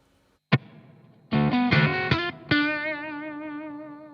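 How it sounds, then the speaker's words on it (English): Electric guitar through a Soundbox Workshop "The '76" fuzz and harmonic modulator with reverb from a Captor X: a lone plucked note, then several thick distorted chords, the last ringing out with a wavering, reverberant tail. "so it's a reverb on the Captor X"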